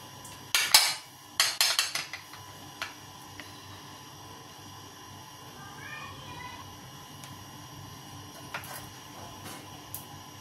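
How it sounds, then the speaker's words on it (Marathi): Serving food onto a steel thali for a naivedya offering in a home kitchen: a few sharp utensil clinks and scrapes early on, then quieter scattered taps over low room noise, with no talk. "आता आपण ताट करून घेऊया नैवेद्याचं"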